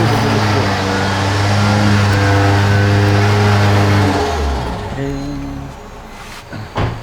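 A Suzuki Swift 3-door's engine revs hard and holds a high, steady pitch, then drops away as the throttle is released, heard close up with a few knocks at the end.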